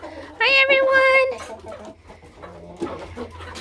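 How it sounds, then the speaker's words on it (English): Several roosters crowing inside a barn, one loud nearby crow with a rising, drawn-out harmonic call, followed by quieter clucking and farmyard murmur. "You can see they're all crowing."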